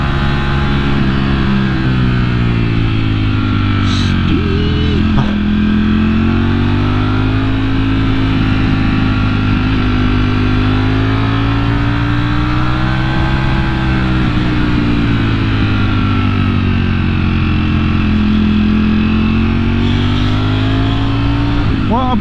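A motorcycle climbing a steep, tight uphill road in second gear at about 60 mph, its engine droning loud and close with slow pitch swells as the throttle changes.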